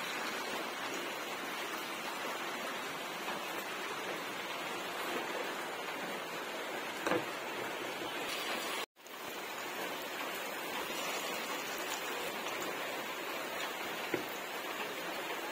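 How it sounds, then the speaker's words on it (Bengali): Battered pointed gourd pieces frying in hot oil, giving a dense, steady sizzle with faint crackles that continues throughout apart from one brief dropout. "তেলের মধ্যে ভাজবো"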